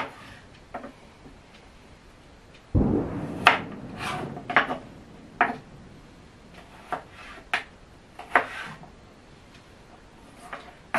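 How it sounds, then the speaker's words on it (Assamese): Radish being chopped into small pieces with a knife on a board, a sharp first cut followed by a series of irregular crisp taps and knocks, close and clear with no talk. "এতিয়া সৰু সৰুকৈ কাটি ল'ম মূলাকেইটা।"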